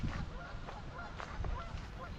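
Geese honk in a lagoon at a nature park, a few nasal calls rising over a low steady background of outdoor noise and faint water.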